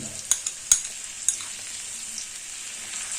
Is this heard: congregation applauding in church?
no